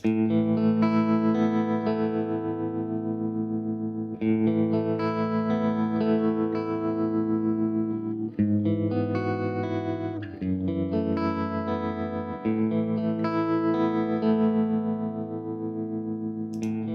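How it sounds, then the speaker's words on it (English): Sustained electric guitar chords with a pulsing tremolo effect from a Sonicake Warped Dimension pedal, repeating in a looped pattern every few seconds, loud and close. "So that's tremolo."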